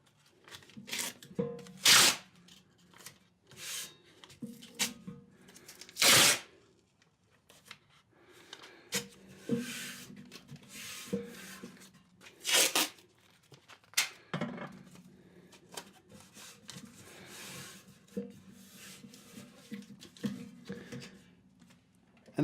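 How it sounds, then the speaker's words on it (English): Masking tape pulled and pressed over the back of a DIY LA2A chassis, with irregular tearing rips and crinkling rubs in bursts, fairly close and alone with no talk. "I'm going to put masking tape over the back of the chassis so I can label it"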